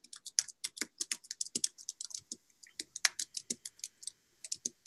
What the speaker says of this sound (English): I'm just typing in the chat real quick.